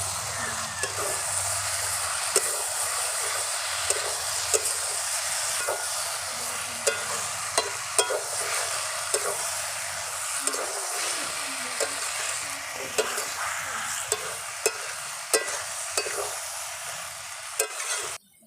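Banana flower curry with red lentil fritters being stirred in a pan: a steady, close hiss of sizzling with frequent light scrapes and clicks of the spoon, and a final louder clatter near the end.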